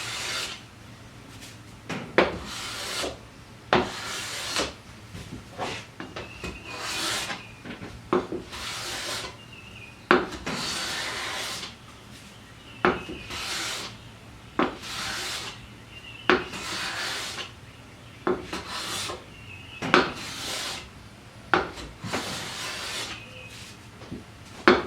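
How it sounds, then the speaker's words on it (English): A hand plane shaving wooden boards flat in a shop, producing long rhythmic rasping strokes, each ending with a sharp knock, repeated steadily and close by. "Now I'm getting nice even shavings all the way across the length of the wood."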